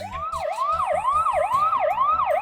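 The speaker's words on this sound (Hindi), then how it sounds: "एम्बुलेंस आ गई" An ambulance siren wails loud and close in a fast rising-and-falling cycle, repeating steadily with an engine rumble beneath.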